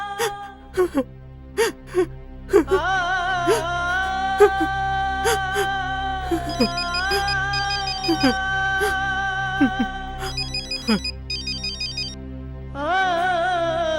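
A mobile phone ringtone plays a repeating electronic melody, loud and close, in a Telugu short film scene, with a person's distressed, whimpering voice heard between and over the tones.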